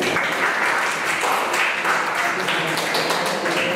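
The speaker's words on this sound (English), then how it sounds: "So clap for yourself, children." Children in a classroom clap for themselves, a brisk burst of many small hands applauding together, close and continuous for a few seconds.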